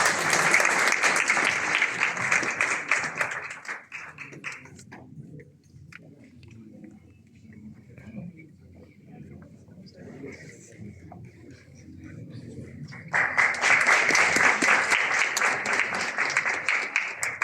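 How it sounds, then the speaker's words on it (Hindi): A college audience at a Sanskrit literary society prize distribution claps loudly and densely, stopping after about four seconds. Quieter murmur and room noise follow, then a second burst of full applause swells near the end. "सभी तालियों से उत्साहवर्धन करें।"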